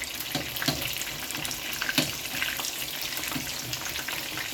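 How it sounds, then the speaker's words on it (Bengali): Batter-dipped pointed gourd (potol) frying in hot oil, with a steady close crackle and sizzle and scattered sharper pops and spatters throughout. "পুরো 10 মিনিট ভাজা লাগবে, 10 মিনিট ভাজা লাগবে যেহেতু কাঁচা পটল"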